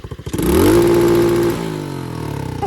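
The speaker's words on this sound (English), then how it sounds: "This thing hit rev limiter. It will hit rev limiter." A pit bike engine snaps up from idle to its rev limiter, holding a loud, buzzing bounce at the cutoff for about a second before dropping back to a rough, pulsing idle.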